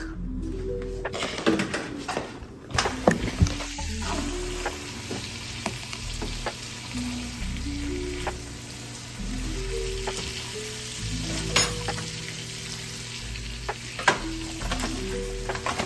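Food sizzling and frying in a pan on a home stove, a steady close crackle running throughout with scattered clinks and bumps of utensils and a few louder knocks, no talking.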